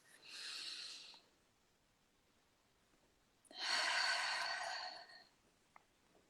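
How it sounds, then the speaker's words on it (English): Two slow deep breaths, a long inhale followed by a fuller, louder exhale, each lasting about a second and a half, close and breathy with quiet pauses around them, no speech. "Take one more big deep breath."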